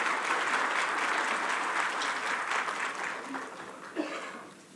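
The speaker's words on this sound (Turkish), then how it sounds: "kıymetli Çatalca Belediye Başkanımız Sayın Erhan Güzel'i alkışlarınızla mikrofonumuza davet ediyorum" An audience at an Istanbul municipal event for farmers applauds the Çatalca mayor, Erhan Güzel, as he is welcomed to the microphone: dense, sustained clapping that gradually thins and fades, with a short voice near the end.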